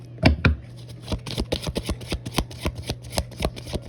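Cards being shuffled: two sharp riffles up front, then a steady run of crisp, rapid clicks and flutters, close and clear.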